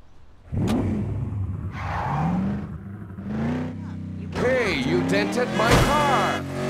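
Cars collide in the Gangstar Rio video game on Android, with engine revving, a skidding screech and crunching impacts in short bursts, while characters talk over the action.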